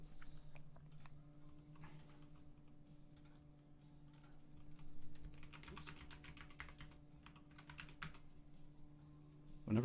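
Typing on a computer keyboard: quiet, irregular clusters of key clicks in bursts, faint and close, with a steady electrical hum underneath.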